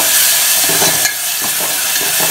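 Ginger, garlic and coriander paste sizzles and fries loudly in a pan for making masale bhat, a continuous hiss broken by a few stirring scrapes, with no voices.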